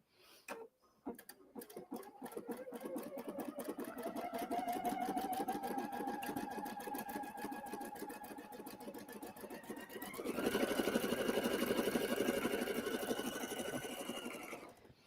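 A sewing machine stitches a zigzag onto a quilt seam allowance, its needle chattering in a fast, steady rhythm that speeds up and brightens partway through, close and continuous with no talking.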